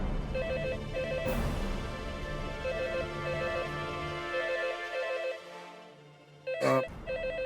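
A telephone rings with a repeating electronic trill over a dramatic music bed from a Hindi TV serial, the tone recurring through most of the span before a sharp swell near the end.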